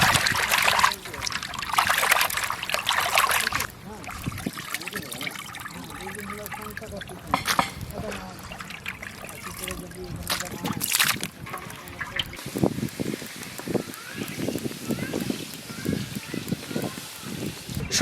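Water splashes and trickles as rui fish pieces are washed by hand outdoors in a village, with intermittent sloshing and dribbling over several passes, and people talking over it.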